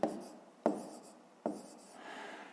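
A pen writes on paper while a math exercise is worked out, three distinct scratchy strokes followed by a softer rubbing, quiet and close.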